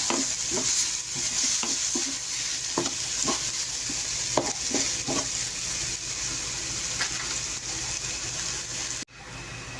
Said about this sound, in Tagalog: Lagay na rin natin ang ating bawang. Halo-halo ulit. Papa-brownish natin siya.